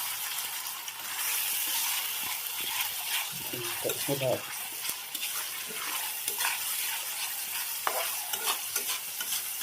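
Ginger paste frying in a pan for rasam gives a bright, continuous sizzle, broken by rapid scraping stirs and a burst of utensil clatter near the middle.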